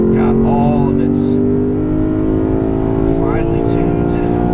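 A 2016 Lexus GS-F V8 holds high revs, around 7,000 RPM, on a curvy road, producing a loud, sustained, close engine drone with stacked tones. A voice talks over it.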